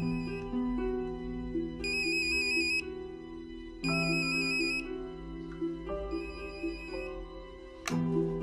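A mobile phone rings indoors with a looping electronic melody, tonal phrases repeating in a steady pattern at moderate volume, with no voices over it.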